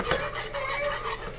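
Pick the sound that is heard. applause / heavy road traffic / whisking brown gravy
whisking brown gravy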